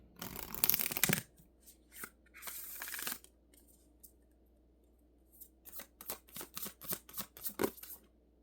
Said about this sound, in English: Let's go ahead and pull a Moonology card for this message.